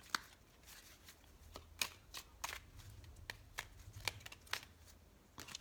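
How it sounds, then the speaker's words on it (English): Soft, quick riffles and light flicking taps of a tarot deck being shuffled, close and quiet, in irregular bursts. "I do want to shuffle a little bit more for you"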